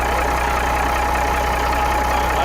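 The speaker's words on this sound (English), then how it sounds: "Look at it, just sitting here idling." An old abandoned truck engine, brought back to running order, idles steadily and loudly up close. It makes a continuous throbbing drone with no talk over it.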